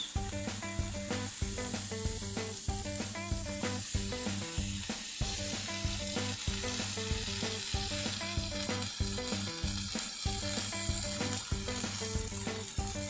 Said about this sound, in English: The pan is nice and hot. Here goes the prawns.